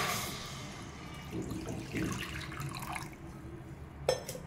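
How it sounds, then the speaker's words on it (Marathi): Three glasses of water are poured into a pot for sugar syrup for gulab jamun, making a quiet splashing pour with a small clink near the end. "पाकासाठी आपण 3 ग्लास पाणी घेतोय"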